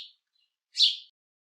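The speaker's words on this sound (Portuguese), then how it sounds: "como por exemplo o pardal" House sparrow call from a bird sound simulator: a faint chirp at the very start, then a single louder, brief chirp near the middle, with silence between and after.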